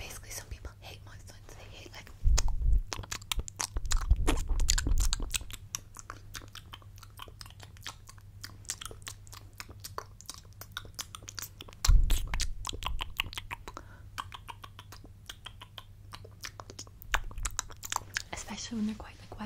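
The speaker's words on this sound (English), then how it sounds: "if you don't like mouth sounds, then you can close your own ears" Close-up ASMR mouth sounds, wet kissing and smacking with soft whispering, irregular and crackly, with louder bursts at a few moments over a low steady hum.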